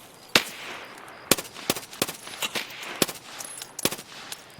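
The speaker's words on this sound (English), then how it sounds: "we're about to get beamed by a fucking sniper scav." Sniper scav gunfire in Escape from Tarkov: sharp single shots cracking at irregular intervals, about a dozen over a few seconds, some loud and close, others softer, with no talking.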